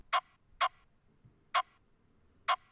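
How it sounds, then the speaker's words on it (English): Four crisp, snappy snare hits with a rim-shot click land in an uneven rhythm over a faint low background. "Now to layer that, we've got this other drum and bass style snare."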